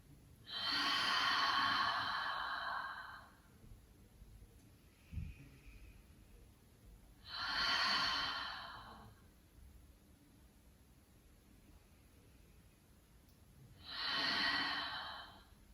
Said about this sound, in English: taking 3 more deep breaths. Maybe exhaling fully through your mouth whenever you exhale